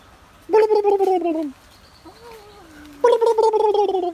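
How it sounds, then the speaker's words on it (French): A turkey at the Zoo Ecomuseum gobbles loudly in two bursts of rapid, warbling calls, with a softer rising call between them. "Un dinde, une dinde, un petit dindon, regarde."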